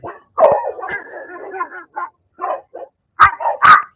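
Mastiffs bark and yip in short bursts, a few close deep woofs mixed with whining, with pauses between.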